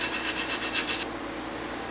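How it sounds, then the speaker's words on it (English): Sandpaper wrapped around a stick rubs back and forth over wood on a Stanley No. 33 jointing plane, giving about seven quick, rhythmic strokes up close before the scraping stops and only a faint hiss remains. "Sandpaper on a stick."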